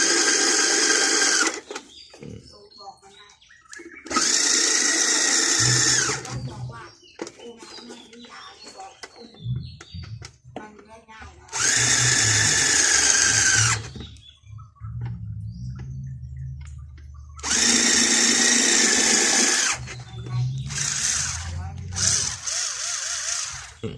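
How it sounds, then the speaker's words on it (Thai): A cheap cordless electric drill, converted to run on a new 18650 battery base, spins up in five loud, high-pitched whirring bursts of a couple of seconds each. Someone talks in the gaps between them. "สว่านตัวร้อยกว่าบาทผมแปลง"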